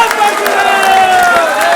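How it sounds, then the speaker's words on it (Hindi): An audience applauds a guest coming onto the stage at a pilgrimage event in India, with steady clapping and a loud crowd over a droning sustained tone. "जोरदार तालियों के साथ आपका मंच पे स्वागत करते हैं"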